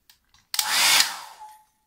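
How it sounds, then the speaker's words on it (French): A hair dryer blows onto a Legrand fire alarm heat detector, switching on with a click and whirring loudly for about a second before winding down, close up after a few faint handling clicks. "J'ai piqué un sèche-cheveux à ma mère."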